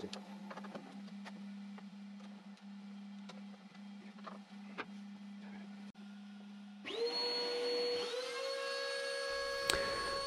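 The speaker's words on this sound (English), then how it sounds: "with the router now running" A CNC router spins up with dust extraction running: a steady low hum, then a loud rising whine that settles into a sustained high-pitched tone with strong overtones, close and continuous.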